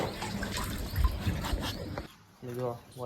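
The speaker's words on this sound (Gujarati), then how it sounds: "જો વાછડો પાણી પીવે" A calf drinks water at a cattle shed on a dairy farm. Soft, wet trickling and lapping sounds are mixed with nearby talking and background noise, then fade briefly before voices return.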